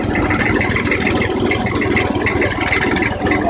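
An old Massey Ferguson 35 HP tractor engine runs steadily close by, a loud, even rattling chug with a fast regular beat and no voices over it.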